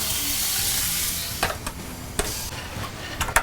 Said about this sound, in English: So my pan's good and hot now, so I'm going to toss in a little bacon.